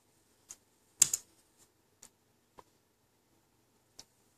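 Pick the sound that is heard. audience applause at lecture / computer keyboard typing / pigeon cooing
computer keyboard typing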